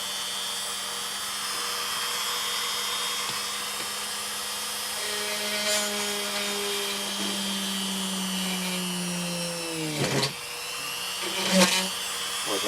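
A power drill bores into a plastic Star Wars snowspeeder model kit, giving a steady close high whine whose pitch dips toward the end.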